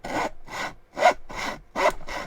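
Japanese saw cutting wood with too much power on the push, in five steady strokes, each rasping stroke strong and even, with brief pauses between them.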